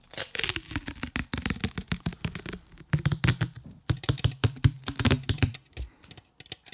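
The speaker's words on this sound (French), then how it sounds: "J'ai du gaffer tape, là," Gaffer tape handled and torn up close for ASMR, with a dense run of sharp crackling snaps and peeling rips in quick irregular bursts and brief pauses between them.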